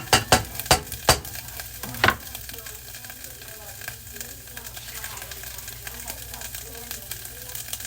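Chopped onions sauté in a hot pan for adobong kangkong, a steady frying sizzle with a few sharp clanks of stirring early on, close and moderately loud.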